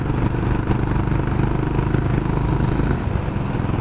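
Honda CB350 RS motorcycle cruising in 5th gear at 70, a steady low-rpm engine thrum with rhythmic exhaust pulses and wind noise, heard close from the rider's position.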